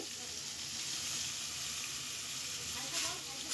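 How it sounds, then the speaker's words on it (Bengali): Prawns fry in hot oil in a wok, giving a continuous, close, crackling sizzle that holds steady throughout with a brief surge near the end. "কড়াইয়ে তেল গরম হয়ে গেছে, এবার আমি চিংড়ি মাছগুলোকে একটা একটা করে ভেজে নেব"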